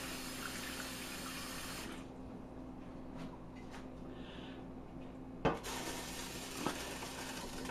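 Running tap water pours steadily into a kitchen sink while a pot is rinsed out while cooking chicken and dumplings, with a short clatter near the end.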